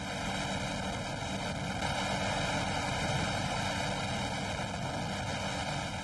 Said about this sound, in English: This is a four-passenger helicopter that takes tourists on rides to view an active